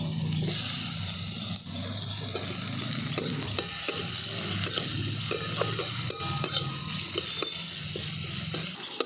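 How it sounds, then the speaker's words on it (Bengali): Chopped onion and tomato fry lightly in a pan for a Bengali snack, giving a steady close sizzle with sharp ticks and clinks as the mixture is stirred. "দেখুন পেঁয়াজ আর টমেটোটাকে আমি খুব হালকা করে ভেজে নিয়েছি।"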